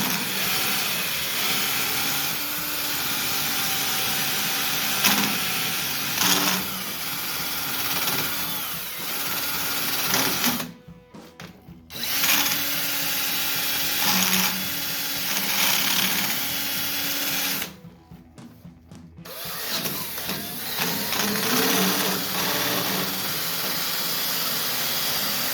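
A wire wheel grinds crud off a Ford 8N tractor steering box with a loud, continuous motor whine and abrasive hiss. The noise cuts out twice for about a second each time before spinning back up.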